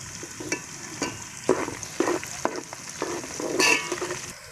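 Finely chopped garlic frying with onion in a pan for mixed vegetable sabzi, a continuous near sizzle with several brisk spoon scrapes and stirring clatters.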